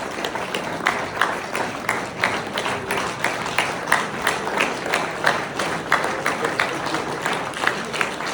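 A crowd at a company's 30th-anniversary celebration gives warm applause as the team is called onto the stage, with sustained, dense clapping and faint voices mixed in.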